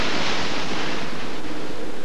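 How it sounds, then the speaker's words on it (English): Strong gusting wind and heavy seas roar continuously and loudly around a crab-fishing boat in rough open water, with no voices. "The crew struggles against gusting winds and high seas"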